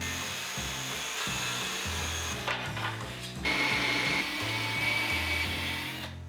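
MDF board being cut into a hexagon with a power tool, a steady grinding, rasping cut lasting several seconds with a brief pause and louder, harsher cutting toward the end.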